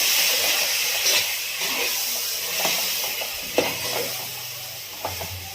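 Ground masala frying in a pan for a sundekai sambar gives a continuous hissing sizzle, fairly loud and even, with a few soft clicks of stirring and a low hum underneath.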